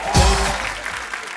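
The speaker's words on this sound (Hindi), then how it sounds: "इनके लिए तालियां हो जाएं भरपूर" A studio audience on a Hindi comedy show applauds for actor Shakti Kapoor's entrance, with a short loud burst of clapping and crowd noise under a voice.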